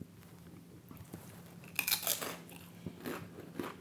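Crisp crunching as Tesco Finest hand cooked cheese crisps are bitten and chewed, a few loud close bites followed by softer chewing, with no talk.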